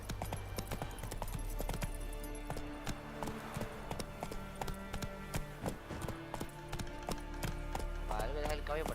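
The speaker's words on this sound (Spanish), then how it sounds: "voy a dejar el caballo por aquí" Horse hooves clip-clop in a steady, continuous rhythm in The Witcher 3 video game, faint and layered over ambient game sound throughout.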